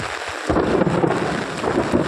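A low rumble of thunder rolls in after a brief lull, with lightning flashing, over heavy, steady rainfall close by in open farm fields.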